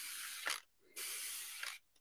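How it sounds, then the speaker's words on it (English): A spray bottle mists water onto a painting canvas in two long hissing bursts, each ending with a short sharp pump click, followed by a brief faint spritz. "And I'm going to spray my canvas. And I want this to run."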